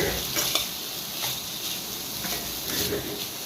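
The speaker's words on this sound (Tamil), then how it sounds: "இப்போ தேங்காய் விட்டு நல்லா கிளறி எடுத்துக்கலாம்." Beetroot stir-fry with grated coconut is stirred in a pan, a soft continuous sizzle broken by occasional spatula scrapes and light taps against the metal, close and moderately loud.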